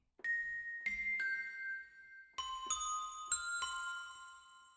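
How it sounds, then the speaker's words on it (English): Small percussion bells, wet, played in a groove: a sequence of bright struck rings with sustained overtones, about eight hits in steady rhythm that ring on and overlap, close and clear with no talking. "let's go to the bass real quick. I mean, the bells."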